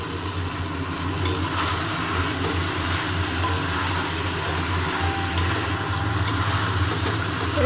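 Two fish heads frying in a pan with spices, giving a steady, dense sizzle that holds at an even level throughout, with no voices over it.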